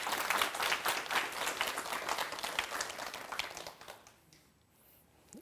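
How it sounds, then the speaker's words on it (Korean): A studio audience at a televised lecture bursts into steady, dense applause welcoming a pharmacist who cooks, the clapping loud and continuous for about four seconds before tapering off into quiet. "여러분 큰 박수로 맞이해 주시기 바랍니다."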